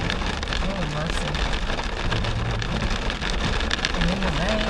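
Steady rain pours throughout on a drive into Ouray, with a constant broadband hiss of drops and running water, and a voice murmurs faintly underneath.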